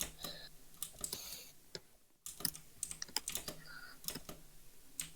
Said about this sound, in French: Oh, j'adore ton clavier.